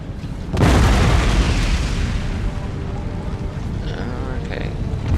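Canister shot cannon fire in the video game Empire Total War, one loud close boom followed by a long rumbling roar that slowly fades, with faint distant cracks near the end.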